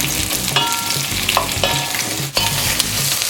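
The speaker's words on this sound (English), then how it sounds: "So in it goes. And we're gonna saute this off for a couple of minutes" Okra sautéing in hot oil in a pan for bhindi masala, a dense close sizzle broken by several stirring scrapes and clacks of a utensil against the pan, with no talking.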